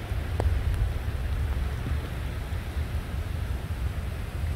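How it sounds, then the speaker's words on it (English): Heavy rain pours down outdoors during a rain chase under nimbostratus clouds, a loud, steady hiss of falling water with a low rumble underneath and no voices. "Really pouring now."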